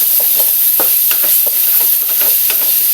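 Garlic and onion sauté in a pan with little oil, a steady bright hiss under light, repeated scraping stirs, close and loud throughout.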